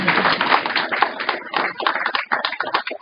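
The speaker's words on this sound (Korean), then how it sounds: "박수 부탁드립니다." Applause from a lecture audience at a Busan bar association AI seminar, a dense, steady wash of many hands clapping for about three seconds, fairly loud and close, with no speech over it.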